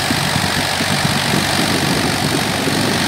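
Mahindra 265 DI tractor powering a wheat thresher in a village during harvest, a loud steady engine drone with continuous threshing rumble and no pauses throughout.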